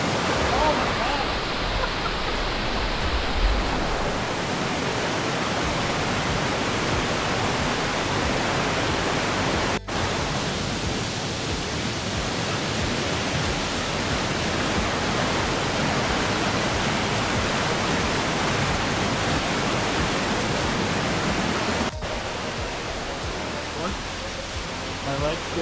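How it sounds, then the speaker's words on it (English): Water rushes beneath a bridge in pouring rain, a dense, steady roar of flow and rainfall that fills the whole scene without letup. "The water underneath is freaky as you're crossing."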